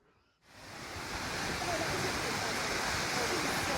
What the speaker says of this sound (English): Lower Calf Creek Falls.